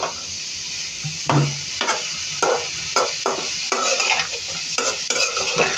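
A spoon stirs potato bhaji frying in a pan, giving repeated scraping strokes against the pan over a constant bright sizzle of hot oil, close and fairly loud.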